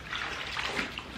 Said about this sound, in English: You create a bubble and then push it through the water.